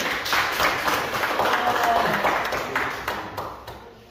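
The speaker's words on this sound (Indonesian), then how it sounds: "Tepuk tangan untuk 3 kelompok ini." A classroom of students gives steady, fairly close applause for three student groups, a dense patter of clapping that fades slightly toward the end.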